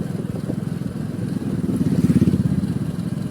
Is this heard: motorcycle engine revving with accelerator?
yes